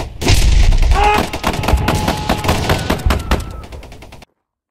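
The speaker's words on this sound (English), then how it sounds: "we're gonna let Ben do a quick mag dump with this" A gun empties its magazine in a rapid, loud, close burst of fire, shots running continuously for about four seconds before stopping abruptly.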